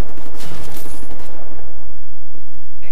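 Loud bursts of rapid automatic gunfire from the first-person shooter Wolfenstein: The New Order dominate the opening second, then fade into a dense, rumbling game soundscape.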